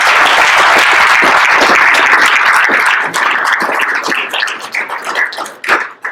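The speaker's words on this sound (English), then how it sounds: "So please give them a round of applause" Audience applause at a school's 100 Days graduation dinner, a dense wash of many hands clapping that stays steady, then thins out and fades toward the end.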